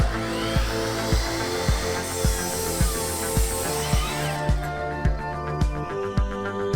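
A power saw cuts through wood with a loud, steady mechanical whine, marked by regular rhythmic thumps about twice a second, close up with no talking.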